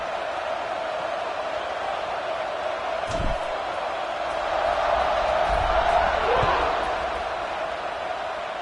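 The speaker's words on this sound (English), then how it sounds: "They're set to kick it off, and this crowd now ready to get behind them." Football stadium crowd at a kickoff after a short touchdown run, a steady roar of cheering that swells through the middle, with faint thumps and a commentator-like voice underneath.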